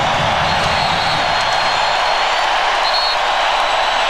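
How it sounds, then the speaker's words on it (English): A basketball arena crowd roars in a dense, steady wall of cheering during a 1996 Chicago Bulls versus Seattle SuperSonics game, loud and sustained throughout. "And this crowd exploding."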